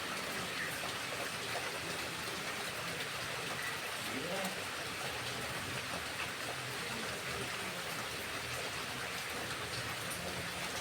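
Water poured into a pan of spicy Bengali loitta (Bombay duck) fish curry, a steady broadband hiss and patter like running water lasting throughout, with faint voice murmurs beneath.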